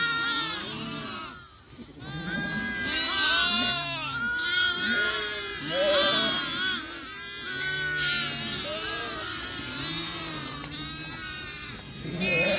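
A flock of young sheep held for sale bleats constantly, many overlapping calls at different pitches rising and falling close by and fairly loud, with a faint voice occasionally underneath.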